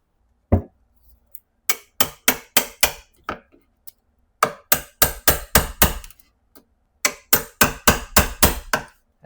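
A chisel is hammered into a kitchen countertop in sharp, loud, ringing strikes, falling in quick bursts of four to six blows with short pauses between them.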